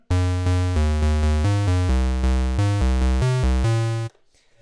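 A buzzy, hollow square-wave tone from an Arturia MiniBrute 2S analog synthesizer plays a steady sequence of separate notes at an even pace, then cuts off into silence.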